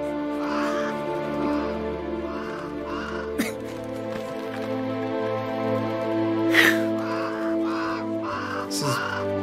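Crows cawing in a Rick and Morty episode, a few harsh caws rising over steady background music and ambience, moderately loud and spaced across the scene.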